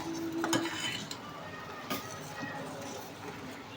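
A spoon stirs and beats eggs in a bowl, with scraping and light clinking against the sides in a steady rhythm, close and moderately loud.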